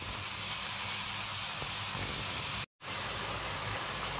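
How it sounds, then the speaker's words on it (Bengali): Chicken pieces frying in hot oil on low heat until crispy, a steady soft sizzle filling the whole stretch, with one abrupt brief dropout near the end. "এগুলোকে একেবারে লো আঁচে আমি ক্রিস্পি করে ভাজবো"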